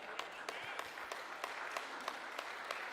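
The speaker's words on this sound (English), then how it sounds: "Amen, you can clap for that" A church congregation gives a slow, spaced run of single claps, each sharp hit separated by quiet, fairly faint and distant in a large room.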